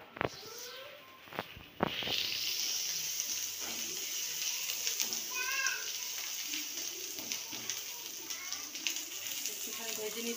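Green chili and ginger paste hit hot oil for machher jhol with a sharp crackle, then settle into a steady close sizzle, with a few clinks near the start and faint talk underneath.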